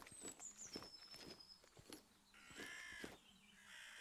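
Crows cawing in the survival video game Jaws of Extinction, a few harsh calls over an eerie ambient backdrop with soft footsteps, heard fairly close and with no talk.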